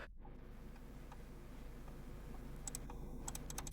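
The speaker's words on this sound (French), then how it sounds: "Veuillez ensuite taper le mot Odin." Typing on a computer keyboard while setting up Odin to flash a Samsung Galaxy S8: faint, quick key clicks in an uneven run, with a brief flurry near the end, against a low room hum.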